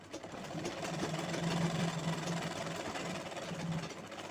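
A sewing machine hums and chatters continuously, stitching fabric pieces cut from an old kurti, at moderate level and close by, without speech.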